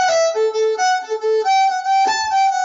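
Fiddle playing a quick turn ornament within an Irish jig phrase, clear and close, a run of fast bowed notes with a brisk lilting rhythm and no talk.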